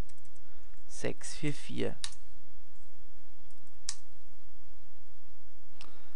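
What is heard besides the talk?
typing on a computer keyboard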